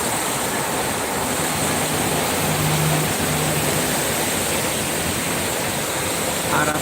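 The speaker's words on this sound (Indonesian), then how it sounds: "Anginnya cukup lumayan kencang" Strong wind roars steadily beside the Jakarta-Cikampek toll road, a dense continuous rush that buffets the microphone with no breaks throughout.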